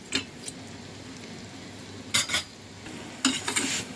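Vermicelli being stirred as it roasts in ghee in a pan, with a few sharp spoon-against-metal scrapes and clinks standing out over a soft, steady low sizzle.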